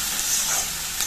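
Vegetable chochchori of greens, stalks, eggplant, tomato and potato stirred and fried in a pan, a steady close sizzle with scraping stir noises throughout, no talk.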